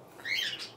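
A single brief, fairly close chirp from a pet parrot, a rising then falling tweet heard alone in a quiet room.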